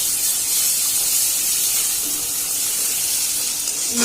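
Vegetable bhaji with onion, green chili, ginger and garlic sizzles steadily in a frying pan, a continuous bright hiss of oil and moisture that stays even and close for the whole stretch with no talk over it.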